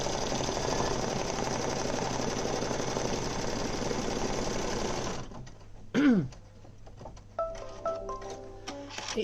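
An embroidery machine stitches a badge design, a loud rapid mechanical chatter for about five seconds that then stops, followed by a short whine and scattered clicks and handling noises.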